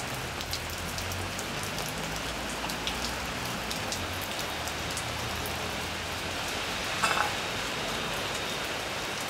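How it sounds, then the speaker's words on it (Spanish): Steady rain patters on surfaces, a dense even hiss with scattered drops, and a brief louder splash near the end. "El banco quieto, en tanto la lluvia lo empapa."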